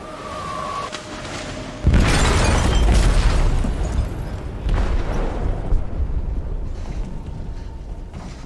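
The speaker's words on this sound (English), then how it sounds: "They detonated an explosive in the hold." A heavy explosion in a ship's hold in Detroit: Become Human bursts in loud and close after a short quiet lead-in, followed by a long, dense rumbling roar that stays strong to the end.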